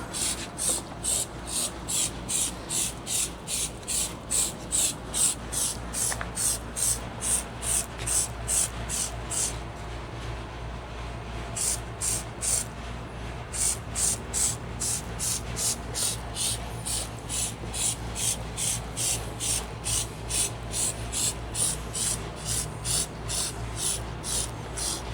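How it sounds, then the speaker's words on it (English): Bug and insect remover sprays in rapid, rhythmic hissing bursts onto a dirty car after a month-long road trip, repeated pumps at close range with a short pause midway, alone without talk. "we're going to get started by spraying lots and lots of bug and insect remover"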